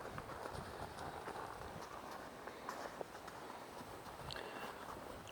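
A horse walks at a steady rhythm during a riding lesson, hooves clip-clopping softly and evenly over the ground at a moderate distance throughout.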